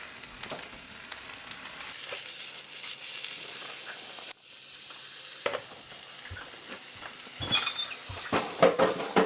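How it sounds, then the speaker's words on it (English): Vegetables sauté in a pan during meal prep, a steady close sizzle and crackle running throughout with occasional louder clinks and stirring bursts near the end. "I'm going to cut these all up and I'm going to saute them in the pan."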